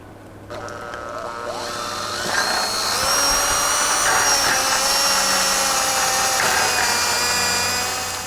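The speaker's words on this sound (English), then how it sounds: "Drill some holes." A power drill bores into fence wood, its whine rising from a lighter spin to a loud, strained, steady grind that holds for several seconds close by.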